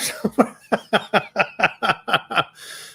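A rapid series of about ten short, sharp coughs or hacking bursts, close and loud, ending in a breathy exhale.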